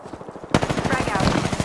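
An automatic weapon fires in a rapid, loud burst in the Apex Legends video game, and the stream of shots kicks in abruptly after a brief quiet stretch.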